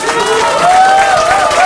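A crowd at an election-night statement by a Gangseo district head candidate claps warmly and steadily, dense applause filling the room without pause.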